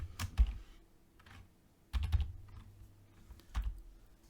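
Typing on a computer keyboard in three short clustered bursts of key clicks, close and crisp, separated by quiet pauses.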